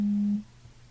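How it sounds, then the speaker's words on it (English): A phone sounds a single short, steady electronic tone as a notification from the Crossy Road game, then falls quiet. "Oh, that was my phone."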